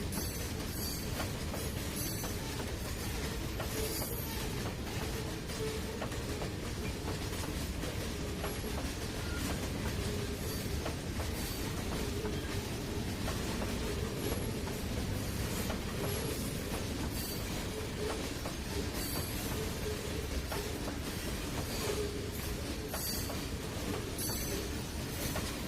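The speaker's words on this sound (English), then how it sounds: "Let's look back at the train so we can see when it clears." Train running on rails in the Trainz 2019 simulator, a steady, quiet rolling rumble with faint rhythmic wheel clatter continuing unchanged throughout, with no voices.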